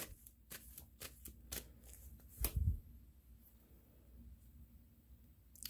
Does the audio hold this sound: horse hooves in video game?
no